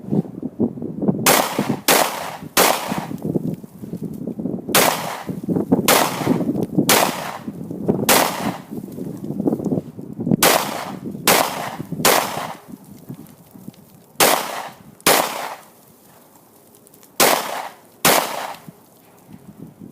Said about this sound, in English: First magazine is through without a problem.